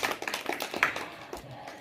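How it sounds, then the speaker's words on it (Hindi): Children clap their hands at a primary school farewell for fifth-grade students, with scattered, uneven claps heard close by for a couple of seconds. "ताली बजाते रहो।"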